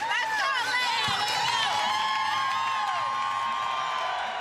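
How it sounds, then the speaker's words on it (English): A crowd in a basketball arena during a women's college tournament semifinal cheers and whoops with high shrill shouts and whistles over constant loud hubbub. "Good crowd here at Bonsecours Wellness Arena, as you might expect."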